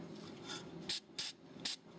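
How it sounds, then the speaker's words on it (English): Silicone lubricant is sprayed onto the plastic shaft of an ABS sensor during a tie rod job on a 2005–2010 Ford Mustang, heard as three short, close, sharp aerosol bursts, with a fainter spritz before them. "put a little bit of silicone lubricant on the shaft here so that it'll slide in easier"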